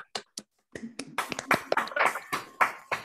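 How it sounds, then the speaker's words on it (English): Scattered, uneven clapping from a few online meeting participants, a handful of separate claps at first and then a brief ragged round of hand claps, fairly close and moderately loud. "Let's all unmute and give them a round of applause"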